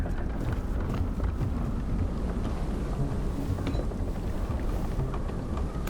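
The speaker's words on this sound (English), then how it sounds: "It's a windy day today." Wind blowing in the video game Tell Me Why, a steady low gusty rumble with faint creaks and rattles throughout, moderately loud and without speech.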